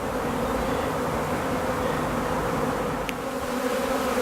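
A dense honey bee swarm drones steadily and loudly around a nuc hive, a continuous close buzzing with no pauses and one brief sharp click partway through.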